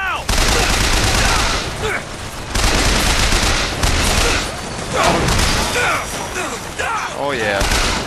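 Rapid gunfire from a mounted turret in Bioshock Infinite rattles in sustained bursts, loud and dense, with short pauses between volleys and a voice calling out over the shooting.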